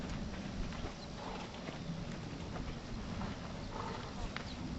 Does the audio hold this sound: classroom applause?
no